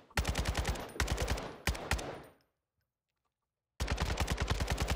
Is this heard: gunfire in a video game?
yes